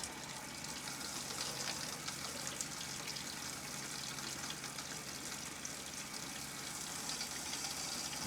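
Second bathroom faucet in an RV running, an even, continuous rush of water splashing into the basin, steady throughout with no voices.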